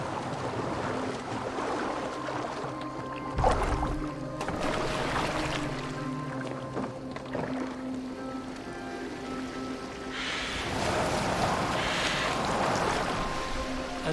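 A boat moves through water in Assassin's Creed Valhalla, a steady wash of water and creaking wood with a low thump partway through and rising splashes later on.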